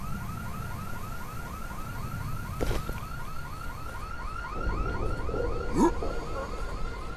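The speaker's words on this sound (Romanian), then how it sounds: "Ok, alarma de obicei atrage zombie." A car alarm in the video game Dead Island gives off a steady, fast-repeating electronic whoop. It sounds continuously over a rumbling background, with a couple of brief thuds and no speech.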